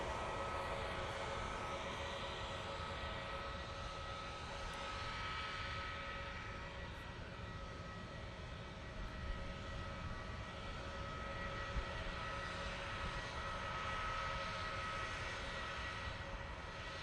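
Airbus A320neo jet departing for Munich, a steady broad engine roar that stays loud and continuous throughout, with no speech.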